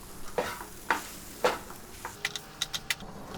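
Flour roux for vegan poutine gravy cooking down in a pan, with soft sizzling under a few quiet scrapes and stirs of a utensil, faint and close.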